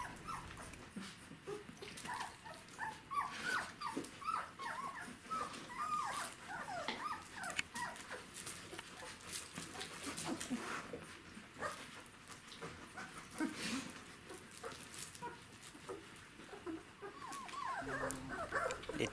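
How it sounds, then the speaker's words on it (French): Sixteen-day-old Czechoslovakian wolfdog puppies play and nibble at each other, producing a busy, continuous chorus of close whimpers, yips and squeaks with small rustling movements and no pauses. "Sur cette séquence, vous voyez que les chiots commencent à interagir entre eux, ils se mordillent"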